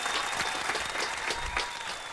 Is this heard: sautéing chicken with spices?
no